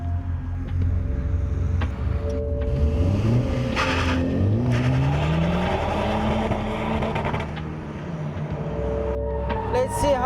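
A 2016 Honda Civic Type R accelerates hard on a hot lap, the engine note climbing through rising revs with shifts between gears, loud and close from inside the car.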